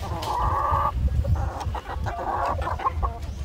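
Layer hens clucking at close range while pecking at alternative feed on a farm, a steady run of soft clucks and low scratching noises with no voices.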